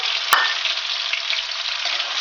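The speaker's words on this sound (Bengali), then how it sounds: "কিছুটা কাজু বাদাম দিয়ে দিয়েছি একটু বাদামি রং করে ভেজে নেবো" Cashew nuts fry in hot fat in a pan for pulao, giving a dense, steady, close sizzle with a single sharp clink near the start.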